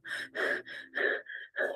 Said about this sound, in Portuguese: Mas a nossa respiração, ela é assim, ó.